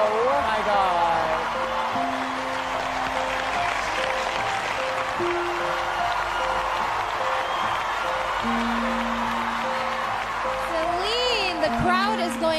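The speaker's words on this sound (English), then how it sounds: "the crowd is going crazy for you" Talent-show crowd cheering and applauding for a young singer, a steady roar of claps and shouts throughout, with a few sustained tones rising above it and some talk mixed in.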